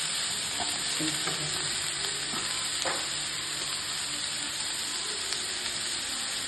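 Chopped capsicum and carrot stir-frying in a hot pan for Schezwan fried rice give a steady sizzle and crackle, with a few soft knocks of the spatula against the pan, and no talking.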